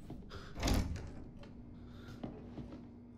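Interior door in the horror video game Resident Evil 7 thuds and creaks open once, a moderately loud burst, followed by a few fainter knocks and rattles over a low steady hum.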